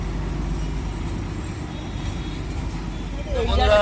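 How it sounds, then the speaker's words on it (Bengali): The Darjeeling toy train passes by the station in Kurseong, a steady low rumble filling the whole stretch and swelling louder near the end, with faint voices in the background. "এই বলতে না বলতেই টয় ট্রেন যাচ্ছে সামনে থেকে"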